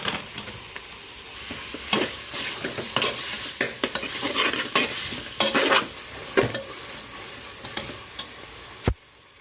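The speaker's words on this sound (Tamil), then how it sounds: "நம்ம தக்காளி சேர்த்து நல்லா வதக்கிக்கலாம்." Tomatoes with rock salt are stirred and sautéed in a pan, giving a soft, steady sizzle broken by repeated scraping strokes of a spoon, with a sharp clank near the end.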